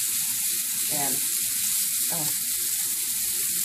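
Steak sears in a pan on medium-high heat with a constant loud sizzle, broken by two brief scraping stirs and a short spoken word.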